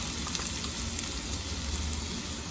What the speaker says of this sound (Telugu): ఇది పచ్చివాసన పోయేదాకా బాగా ఫ్రై చేయండి.